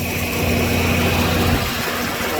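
An old John Deere 4010 tractor engine runs steadily at close range, a loud, continuous low chugging drone that holds even throughout with no breaks or talk.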